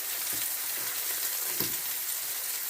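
Flipped food cooking in a pan with pepper and salt, a steady hissing sizzle close by with a few soft scraping touches, no talking.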